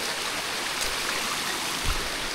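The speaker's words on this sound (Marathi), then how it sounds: "पाण्याचा आवाज भारी, झरे आहे ना." Flowing water of a mountain stream along a trek trail, a steady full rushing wash heard close and alone, with no voices.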